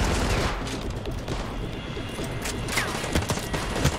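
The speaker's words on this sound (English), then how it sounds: "What are you shooting at?" Dense gunfire from Call of Duty: Modern Warfare 2 campaign combat: rapid overlapping shots and bursts fill the whole stretch, loud and continuous with sharp cracks near the end.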